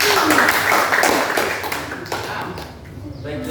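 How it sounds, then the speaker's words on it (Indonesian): A classroom group claps for group 3 during a school lesson, a loose, close clatter of hand claps and taps with voices mixed in, thinning out toward the end. "tepuk tangan untuk kelompok 3"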